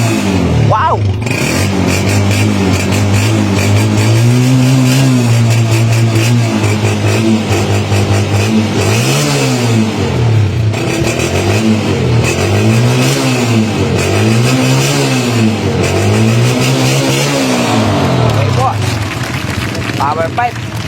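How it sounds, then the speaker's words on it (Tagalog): A Honda TMX125 Alpha motorcycle with a Yutaka power pipe exhaust revving repeatedly, the engine note swooping up and falling back in a series of rhythmic pulls over a loud, close idle, with a voice talking over it at times. "Maganda rin tunog ng makina, tahimik at the same time po powerful."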